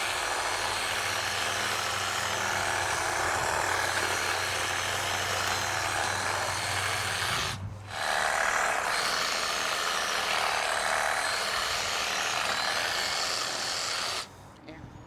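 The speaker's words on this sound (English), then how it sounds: "I have to go get a Sawzall, and I'll show you how we cut those things off." A Sawzall reciprocating saw cuts through deer bone with a loud, harsh, continuous buzzing drone that breaks off briefly midway, resumes, and then stops near the end.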